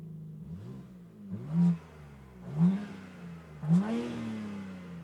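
BMW M3 G80 engine in comfort mode with exhaust flaps closed, a low, subdued rumble broken by three short throttle blips that swell and fade, heard alone.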